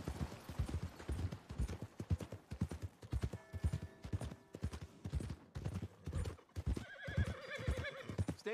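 Rhythmic horse hooves clip-clop steadily throughout, and a thoroughbred horse whinnies loudly near the end, close by, in Red Dead Redemption 2.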